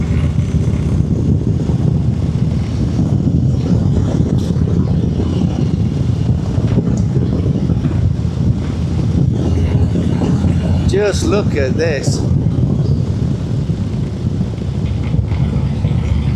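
A Harley-Davidson motorcycle cruises a Blue Ridge Mountains road, its engine a steady low rumble under constant wind buffeting and a rider talking over it, with a brief whining tone near the end.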